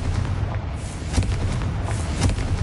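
Fiery spell explosions from Hogwarts Legacy, Confringo blasts, booming in a dense continuous roar of bursts that stays loud and close throughout without any talk.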